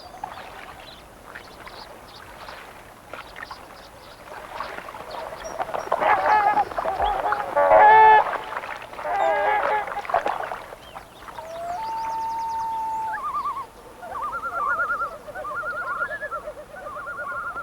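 Swans on a lake give a loud run of honking calls mid-way, then a spaced series of clear trumpeting notes, fairly close against a quiet background.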